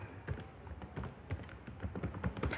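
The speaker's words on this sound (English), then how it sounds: "So you type the password." Someone types a password on a computer keyboard, a quiet run of quick, irregular key taps close to the microphone with no talking.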